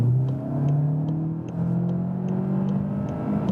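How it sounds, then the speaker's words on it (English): A 2016 VW Passat GTE plug-in hybrid accelerates hard toward 100 km/h, its engine note rising steadily in a loud, continuous drone from inside the cabin with a faint regular ticking above it. "Okay, pressing on the throttle now."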